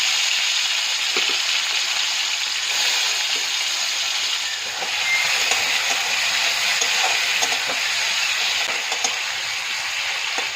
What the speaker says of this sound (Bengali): অল্প একটু তেল দিয়ে চিংড়ি মাছটা হালকা করে ভেজে নেব